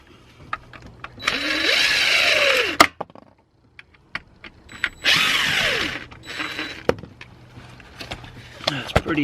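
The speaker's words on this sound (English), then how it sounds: "Next thing then is to start unbolting the valve body itself." A power tool whirs in two bursts, its motor pitch rising and falling, as it unbolts the T40 bolts holding the valve body of a BMW ZF transmission. Ratcheting clicks and metallic taps are scattered between the bursts, close by.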